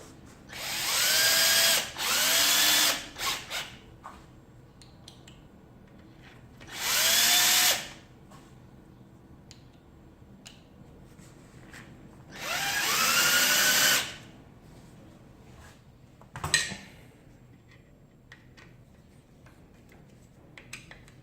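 A power tool drives the four bolts on a motor during cleaning and replacement of a Tiger King rotor unit, in several short whirring bursts of a second or two each, close by, with small clicks and handling noises between and no talking.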